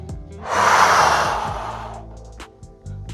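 One long, close exhale during a stretching routine, a breathy rush that swells then fades over about two seconds, followed by small soft breath noises.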